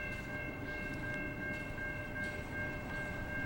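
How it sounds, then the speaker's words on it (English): A very long freight train carrying double-stacked 53-foot containers rolls past with a steady, loud rumble and a thin, continuous high whine throughout, with no talking. "Yeah, this was a super long train."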